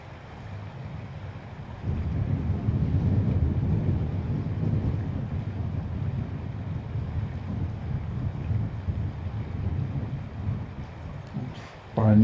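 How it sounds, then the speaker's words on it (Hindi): Wind rushes steadily through trees at Fort Walsh historical site, a broad continuous roar that swells after a quieter opening and holds at an even level, with a brief knock near the end. "दरख्तों में से हवा गुजर रही है।"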